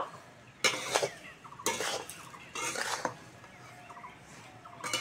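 A spoon is turning a semolina upma mixture in a pan, giving repeated bursts of scraping and clattering against the metal with brief pauses between strokes, near and fairly loud.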